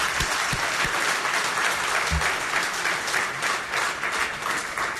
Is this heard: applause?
yes